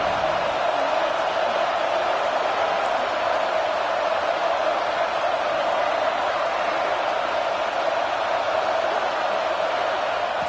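Stadium crowd in a college football video game roars steadily and loudly, a continuous wash of cheering noise that holds at an even level without breaks.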